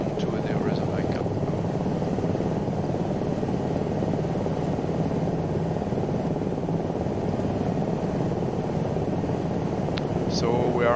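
An Aérospatiale Lama SA315 helicopter manoeuvres near an airport in strong winds, its rotor and turbine roaring continuously and close, with wind buffeting throughout.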